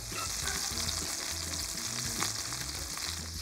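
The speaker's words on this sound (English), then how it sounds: "We're gonna cook this speck for about 3-4 minutes to get a beautiful caramelization." Speck bacon fries in a pan for beef bourguignon, a bright steady sizzle over a low, rhythmic background hum, with no speaking.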